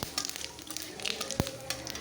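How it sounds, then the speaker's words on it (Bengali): Bay leaf, cumin and dried chilli are tempered in hot oil left from frying eggs, producing a soft crackling sizzle with a few sharp pops. "ওই তেলেই আমি ফোড়ন দিয়ে দিচ্ছি তেজপাতা"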